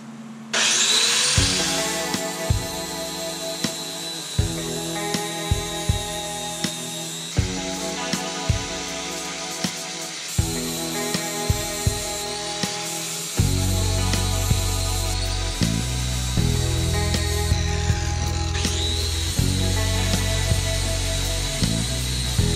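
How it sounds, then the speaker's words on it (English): Power sanding of steel rock sliders for a Jeep Cherokee XJ before tack welding: loud repeated grinding passes that start and stop in bursts, with a heavier continuous stretch partway through, close by with no talk. "we're going to start prepping up for tack welds just by sanding these"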